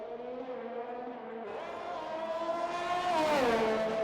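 A Honda-powered Formula 1 car in the F1 2021 racing game screams along a lap, its high-revving engine whine rising in pitch through gear changes and growing louder toward the end.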